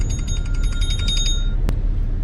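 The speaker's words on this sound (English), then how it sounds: "that was my alarm" An alarm beeps in a rapid electronic pulsing pattern inside a car on a rainy day, steady and fairly loud over low rumbling background noise, then stops, followed by a single sharp click.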